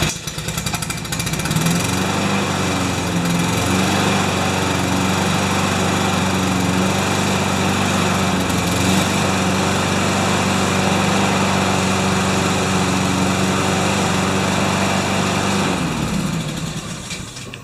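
A Honda HR216 lawn mower engine, its carburetor fouled with gasket goo, runs at a steady loud drone for the whole stretch, close by and with no talk.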